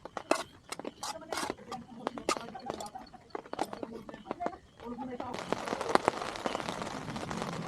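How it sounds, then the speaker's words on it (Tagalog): Light drizzle patters in scattered taps on a nearby surface at a rainy-season motorcycle campsite, turning into a denser, steady patter toward the end. "Naririnig nyo ba guys, umaambon?"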